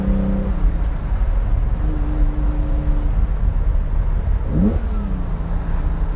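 A 1972 Ferrari 365 GTC/4 with a 4.4 liter V12 and side draft Weber carburetors drones steadily from inside the car on the road, its pitch rising and falling through gear changes and revs, with no voices.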